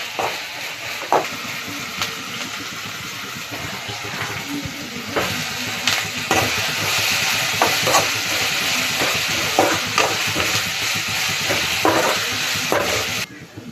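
Green chilies fry in hot oil for an egg bhurji, a steady close sizzle and hiss with occasional stirring clicks and scrapes from the pan.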